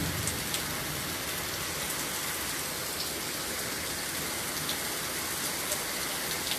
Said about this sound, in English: Yes, it's some hard rain